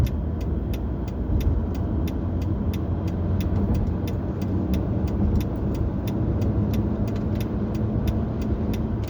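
Steady road and engine roar of a car cruising on a highway between Holland and Belgium at around 120–130 km/h, continuous and close from inside the car, with regular faint ticking on top and no talk.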